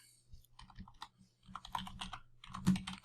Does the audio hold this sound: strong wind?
no